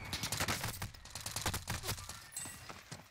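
Rapid bursts of gunfire in Call of Duty: Warzone, several shots in quick succession at moderate volume, like automatic weapons.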